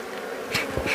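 Honey bees buzz close by at an organic black hive apiary high in the mountains, a steady whining hum with brief louder swells as single bees pass near.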